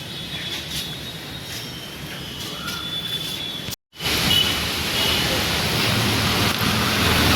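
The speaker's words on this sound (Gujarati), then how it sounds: "વાવાઝોડું અને વરસાદ ધીરે ધીરે ચાલુ થઈ રહ્યું છે" A storm is beginning in Surat, with a steady hiss of rain and a gusting wind rush broken by a brief silent gap, after which the rain returns louder.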